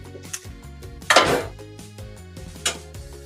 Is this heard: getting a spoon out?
yes